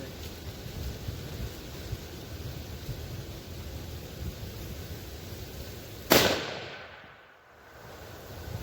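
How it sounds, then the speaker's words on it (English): A single sharp 6.5 Creedmoor rifle shot fired with Winchester white box ammunition from a 16.5-inch barreled 1500 rifle, a loud crack that decays quickly out of steady outdoor background noise. "we're going to start with the Winchester white box"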